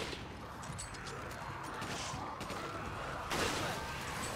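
Gunfire in the survival horror game Resident Evil 5, a faint continuous rattle of shots with a sharper burst near the end, mixed under game noise.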